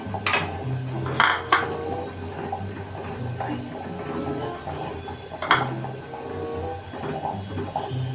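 Kitchen clatter while chillies are chopped, with a few sharp knife or utensil knocks against the board and dishes scattered among low household voices and background talk.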